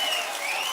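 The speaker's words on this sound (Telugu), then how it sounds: "గట్టిగా ప్రసాదరావు గారిని గెలిపిస్తామని చప్పట్లు కొట్టి హర్షాన్ని ఆమోదాన్ని తెలియజేయండి." Crowd at a TDP Praja Galam political rally in Palamaneru applauding steadily, a dense wash of clapping filling the whole moment without any voices on top.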